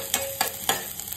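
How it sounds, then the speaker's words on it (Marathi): Finely chopped garlic frying in a pan while being stirred, three quick scraping stirs over a steady close sizzle, with no talking. "व्यवस्थित मिक्स करून घ्यायचा"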